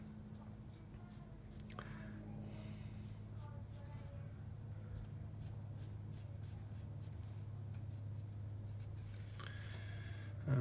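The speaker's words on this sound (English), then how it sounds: "And now let's just go ahead and sketch my parabola." A pencil scratches across paper while a parabola graph is sketched by hand, giving faint, steady strokes over a low room hum; close and quiet.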